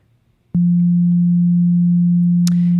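A synthesizer oscillator set to a pure sine wave starts abruptly with a click and holds one loud, steady low tone, with a brief higher click near the end.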